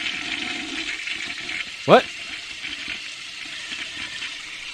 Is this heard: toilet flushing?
yes